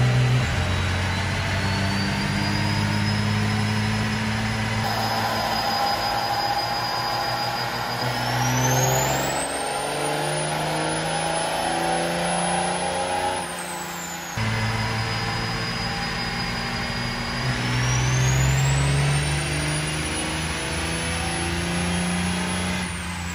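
A compound-turbo 488 engine on a dyno pulls twice in succession, each run a loud sustained rising roar that climbs to a peak, cuts off briefly, then starts again, with no talk over it.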